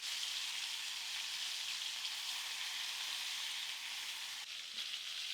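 Steaks sear in a hot pan with garlicky butter, giving a steady, loud, close sizzle that holds for several seconds with barely any change.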